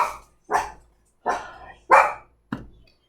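A dog barks five times in a short, loud, close series with brief pauses, the last bark clipped shorter, with no other sound around it.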